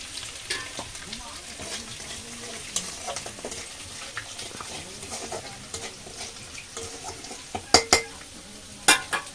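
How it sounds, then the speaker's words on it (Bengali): Panch phoron spices sizzling in hot oil left from frying shrimp, a steady close crackle and fizz with intermittent stirring scrapes and a few sharp utensil clinks toward the end. "চিংড়ি ভাজা তেলেই আমি দিয়ে দেবো পাঁচ ফোড়ন একটু বেশি পরিমাণে পাঁচ ফোড়ন দিলাম"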